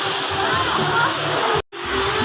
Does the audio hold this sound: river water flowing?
yes